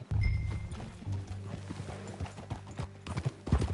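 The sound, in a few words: horse hooves clip-clop, from video game Red Dead Redemption 2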